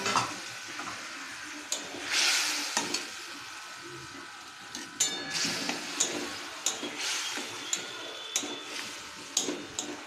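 Marinated chicken sizzles as it is stirred and sautéed in a pan, a soft steady frying hiss broken by regular scraping clicks of the spoon against the pan.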